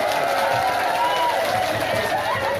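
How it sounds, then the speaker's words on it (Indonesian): An audience at a Sundanese religious gathering led by Hj. Aah in Purwawinangun, Kuningan, breaks into steady, loud applause and cheering that fill the hall, with voices mixed into the crowd noise. "Tepuk tangan untuk awewe."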